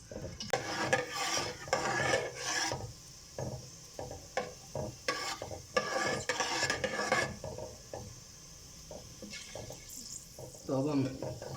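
Whole garam masala lightly frying in cooking oil for a mixed vegetable biryani, with soft sizzling and stirring clatter of a spoon against the pan, under intermittent talk.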